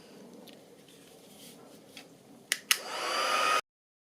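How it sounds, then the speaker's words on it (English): A crafting heat tool switches on and blows hot air over a protective mat, its whoosh rising to a steady, close hiss after a couple of clicks and then cutting off abruptly. "The heat tool."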